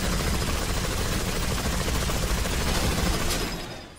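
A Gatling gun fires continuously in the action video game NightMare Breaker, a dense, sustained stream of rapid shots forming a loud buzzing roar that tails off near the end.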